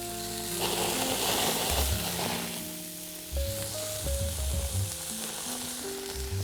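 Fish and pepper kebabs with feta sizzle and fry steadily on a hot griddle, a close, continuous crackle with brief clatter as they are turned, alongside background music.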